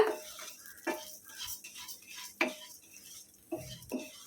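Red flattened rice (aval) roasting in a pan as a spoon stirs it, with a few distinct scraping knocks against the metal and a soft dry rustle between them, close and moderately loud, no talking.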